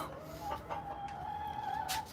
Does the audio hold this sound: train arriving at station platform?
no